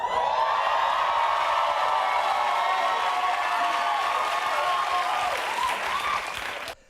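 A studio audience in a comedy news show breaks into sustained loud applause mixed with cheering and whoops, a dense continuous roar that holds steady for several seconds before tapering off at the end.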